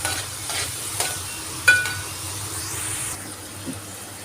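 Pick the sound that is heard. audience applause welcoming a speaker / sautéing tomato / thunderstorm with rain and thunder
sautéing tomato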